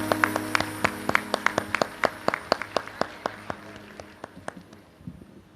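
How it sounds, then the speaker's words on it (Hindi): An audience at a comic poetry gathering claps to welcome poet Dinesh Bawra, a brisk, rhythmic run of sharp handclaps that slowly thins and fades toward the end. "दोनों हाथ उठाकर जोरदार तालियां बजाकर स्वागत कीजिएगा दिनेश बावरा का।"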